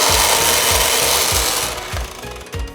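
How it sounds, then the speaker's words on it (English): A loud, harsh table saw grinds through wood with a pulsing low thump, easing slightly toward the end; no talking. "This right here is a table saw, and this is one tool we will be using to cut the wood."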